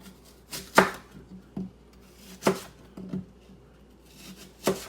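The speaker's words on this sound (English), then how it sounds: "Next up, I'm gonna go ahead and cut up these apples" A knife chops through apples on a cutting board in a home kitchen, giving three sharp, distinct thunks spaced a couple of seconds apart with softer scraping taps between them, close and clear with no talking.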